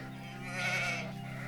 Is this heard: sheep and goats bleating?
yes